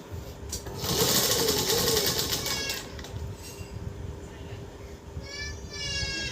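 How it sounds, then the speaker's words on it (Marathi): A sewing machine stitches fabric for a Ganpati feta. It opens with a loud, fast whir that runs for about two seconds and then eases, a voice can be heard, and a cat meows faintly near the end. "मी आता मी हे स्टिच करते"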